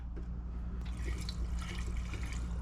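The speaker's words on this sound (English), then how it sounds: "I'm just pouring a little bit of gas in that thing." Gasoline trickling from a small container into the carburetor of a 1949 Buick Roadmaster hearse, a soft close liquid pour and dribble with a light rustle as it starts.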